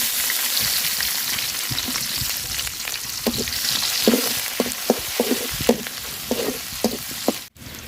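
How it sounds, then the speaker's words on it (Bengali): Chopped onion and green chili frying in oil left from frying fish, a steady hiss broken by repeated spatula scrapes and taps against the pan, close up. "মাছ ভাজার তেলে আমি পেঁয়াজ কুচি আর মরিচ কুচি দিয়ে দিলাম।"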